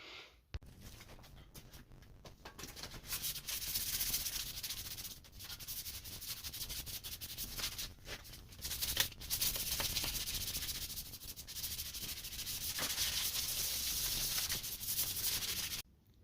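Continuous abrasive sanding on a rusty minibike frame, a steady close hiss with brief pauses and repositioning, running nearly sixteen seconds.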